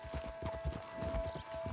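Horse hooves clip-clopping in the video game Red Dead Redemption 2, a quick steady rhythm of muffled thuds from a riding horse, close and fairly quiet over a constant background hum.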